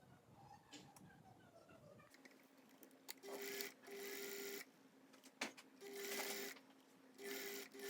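A sewing machine stitches a sleeve seam for a top in several short whirring bursts, each stopping and starting with quiet gaps in between. The machine sounds close and clear.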